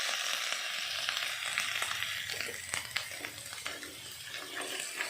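Tahong mussels fry in a hot skillet with a dense, close, crackling sizzle full of quick pops and spits that runs steadily throughout.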